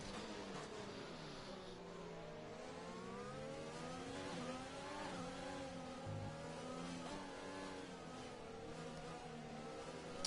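Race car engines drone in a steady, dense blend during a World Rallycross round in Spain, their pitches rising and falling as several cars pass and accelerate, heard from a distance with no talking.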